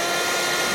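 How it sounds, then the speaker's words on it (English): A vacuum cleaner runs in a steady, loud, broadband roar as it sucks up a lost earring, with no talk over the sound. "like a vacuum finding your lost earring"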